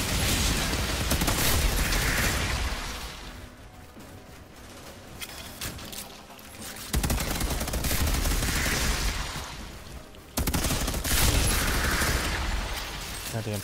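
Sniper and weapon fire in the video game Outriders comes in long, loud stretches of dense shooting and blasts, broken by a quieter lull, with the noise filling the scene continuously.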